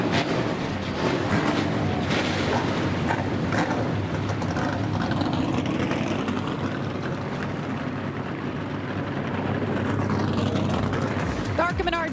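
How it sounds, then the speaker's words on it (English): ARCA Menards Series race car engines firing up together at Kansas Speedway, a dense, steady roar of many engines held throughout, with a voice talking over it. "drivers, start your engines."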